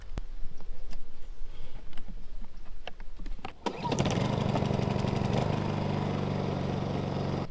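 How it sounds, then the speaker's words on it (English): A portable generator runs at a campsite in Big Cypress National Preserve, Florida, starting up partway through and then droning in a steady, fairly loud hum after some scattered clicks and knocks. "Generator's running really quietly in the background there"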